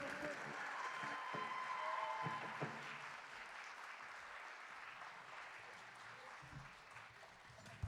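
Audience applause for a band at a live music competition night, a broad wash of clapping heard from a distance that fades slowly, with voices mixed in.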